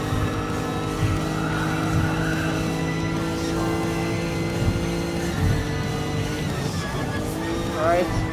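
Gr.4 race cars in Gran Turismo Sport, including a Lexus RC F, roar steadily with engine drone while tires skid and squeal briefly, under a talking voice.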